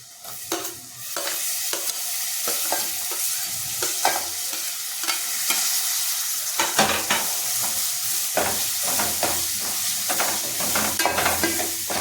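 Tomatoes stir-fried in a pan with coriander powder, a loud, steady sizzle with repeated scraping strokes of a spatula throughout.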